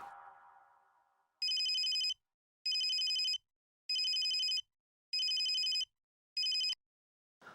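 A telephone rings for an incoming call in a TV comedy scene: five loud, evenly spaced electronic bursts of ringing, the last cut short, after a brief voice at the start.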